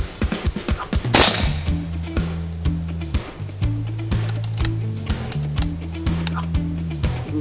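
A hollow-point slug and pellet fired into ballistic gel, giving one sharp, loud report early on amid smaller clicks and knocks, over a steady tonal hum in the background.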